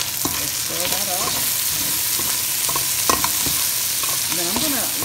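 Beef tips seasoned with Provence herbs being stirred in a hot pan, a steady close sizzle with repeated scraping strokes of the spoon; no talking.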